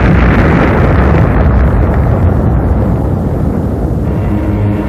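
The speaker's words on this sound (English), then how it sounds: "it broke into our atmosphere, and then came the explosion" A huge explosion as a space object streaks into Earth's atmosphere at over 30,000 miles an hour, heard as a loud, sustained rumbling roar with heavy low-end blast noise that stays dense and constant throughout.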